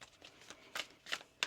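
Tarot cards shuffled by hand during a reading, several soft riffling bursts that grow sharper and louder toward the end, close and quiet with no talk.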